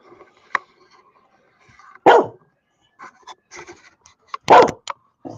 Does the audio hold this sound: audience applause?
no